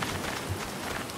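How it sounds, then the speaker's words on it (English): Steady rain keeps falling in the survival game Stranded Deep, a soft continuous patter with no distinct drops, heard alone at low level. "And it's still raining."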